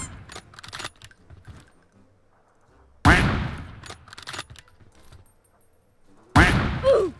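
Gunfire in the mobile battle-royale game PUBG Mobile, two loud sharp bursts about three seconds apart, with softer clicks and shots between them.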